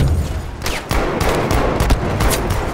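Video game gunfire on the Rotterdam map: a dense run of sharp shots and cracks, several rapid bursts packed into under three seconds, loud and close.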